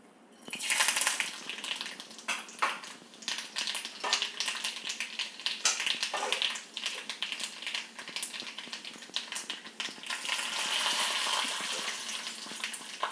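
Mustard seeds tempering in hot oil for a Tamil-style kootu seasoning, a steady crackling sizzle with scattered sharp pops, close and fairly loud throughout, no voices.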